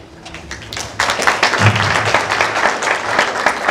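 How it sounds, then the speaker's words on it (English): Graduation ceremony audience applauds steadily, a dense burst of clapping that starts abruptly and continues at even loudness, little talk. "Thank you so much for the claps."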